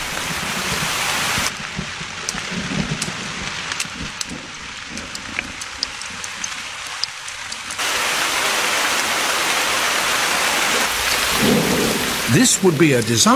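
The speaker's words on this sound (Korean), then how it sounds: "드디어 비가 오고 억수같이 쏟아집니다." A heavy downpour during a thunderstorm over a river, with steady loud rain hissing throughout and rumbling thunder rolling in.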